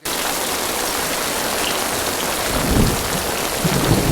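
Heavy rain pours steadily in a wartime jungle setting, a dense continuous hiss that swells slightly toward the end, with no voices.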